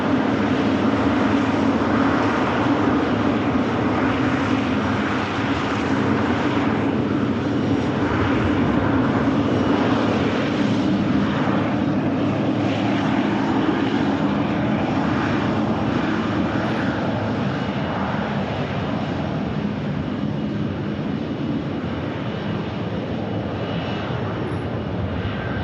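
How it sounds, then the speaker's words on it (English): Ryanair jet bound for Riga taxiing onto the active runway at Manchester Airport, a steady, fairly close engine drone with a low hum that holds throughout and eases slightly toward the end. "the Ryanair for Riga just pulling onto the active now."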